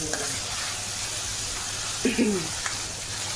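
Vegetables sauté in a pan with a continuous hissing sizzle, heard up close. A couple of brief clinks and scrapes of stirring break through the steady frying noise near the middle and again shortly after.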